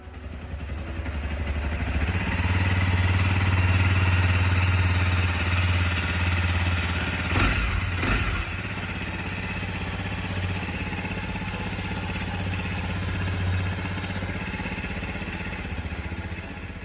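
A Honda CRF 250 motorcycle engine, just after an oil change, starts and settles into a steady close idle, with a brief burst of clatter midway before it eases to a slightly lower, even tickover.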